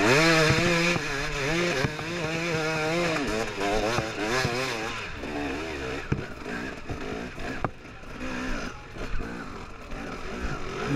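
Enduro motorcycle, about 230 pounds, ridden hard through the Erzberg steel mine during a race, its engine revving and bogging in uneven surges, loud and close throughout without any talk.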